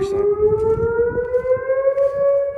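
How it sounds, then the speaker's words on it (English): Oklahoma tornado sirens sound their Saturday noon test, a loud steady wail with rising harmonic tones holding through the whole stretch, with outdoor background noise beneath. "If you're watching from outside of Oklahoma, these are tornado sirens."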